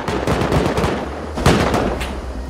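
Rapid gunfire in the video game Rust during a base raid: a loud close burst of quick shots, a short pause, then another sharp volley, with no talk.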